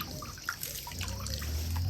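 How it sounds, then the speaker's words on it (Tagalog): A horse drinks water: steady wet slurping and trickling of water close up, a continuous lapping sound with low background hum. "Ang kabayo, ang daming uminom."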